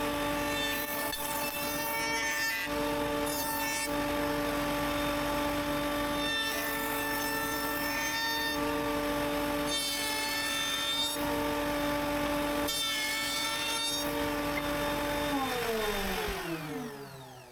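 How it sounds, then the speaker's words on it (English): A router or milling tool works the edges of a wooden bottom plate for a purple heart and maple coffee filter holder, a loud steady motor whine with repeated rasping cuts, spinning down at the end. "I also mill the edges of the top of the bottom plate."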